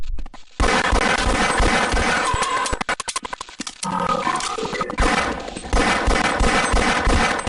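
Gunfire from the Half-Life video game: dense, loud rapid bursts that are nearly continuous, with a short stretch of sharp separate shots partway through, and no voices.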